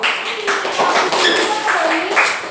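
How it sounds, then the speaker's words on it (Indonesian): Classroom clapping for a student group, a lively burst of many hands clapping close by, with voices mixed in throughout. "sekarang dulu tepuk tangan untuk kelompok Ali"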